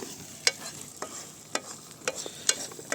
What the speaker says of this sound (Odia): ସାଙ୍ଗମାନେ ବର୍ତ୍ତମାନ ପିଆଜ ଜରା ଚାଲିଛି, ପୁରା ମିଳେଇ ହେବା ପାଇଁ ଆସିଲାଣି।